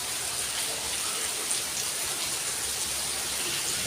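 Rain falls steadily as a dense, even hiss, constant and fairly faint, with no voices or other distinct sounds.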